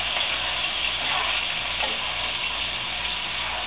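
Frozen vegetables sautéing in a pan for beef fried rice, giving a steady close hiss and sizzle that stays even throughout, heard alone and slightly muffled.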